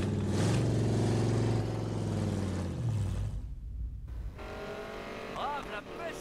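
Car engine in Need for Speed Payback revving hard with a loud droning tone, then cutting off briefly before tire noise and lighter engine sound return, with speech in French heard around it.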